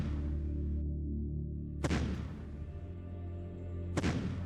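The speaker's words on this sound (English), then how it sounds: "Managed to actually get a kill with artillery strike" Artillery strike in the strategy game Shadow Empire: two sharp booming impacts about two seconds apart, each a loud crack with a decaying rumble over a steady low hum.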